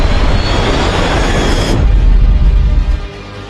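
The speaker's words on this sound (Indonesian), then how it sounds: "pesawat Ojon Air pun lewat" A loud airplane roars past, its broad engine noise cutting off abruptly and leaving a deep low rumble that fades near the end.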